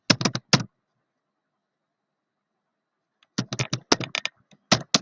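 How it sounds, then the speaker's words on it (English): Fingers tap a computer keyboard in two quick bursts of crisp, close keystrokes separated by a few seconds of silence. "Then I am typing."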